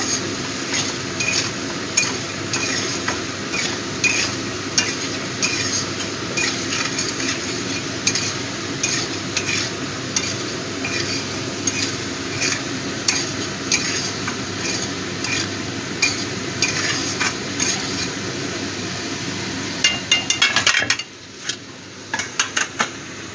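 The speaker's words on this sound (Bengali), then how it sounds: "ভালো করে কষিয়ে নেব।" Spices stirred and sautéed in hot oil for khoira fish curry, a continuous close sizzle with repeated clinks and scrapes of a spatula against the pan, ending in a brief burst of louder clatter.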